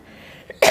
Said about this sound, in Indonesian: Mungkin akan banyak batuk-batuk saya kalian dengar.